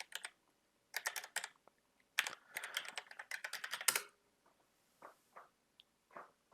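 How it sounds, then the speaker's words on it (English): Typing on a computer keyboard into a Linux terminal, with close, crisp key clicks in quick bursts separated by short pauses, then a few isolated taps. "Type in Chromium browser in the terminal."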